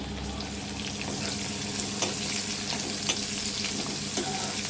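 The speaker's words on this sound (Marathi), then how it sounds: "लसूण व्यवस्थित आपल्याला हलवून फ्राय करून घ्यायचं आहे" Garlic stirred and fried in a pan for a vegetable tempering, a close, steady sizzle broken by several sharp scrapes and clicks of the spoon against the pan, with no talking.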